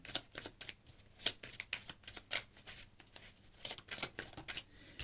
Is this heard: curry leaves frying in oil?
no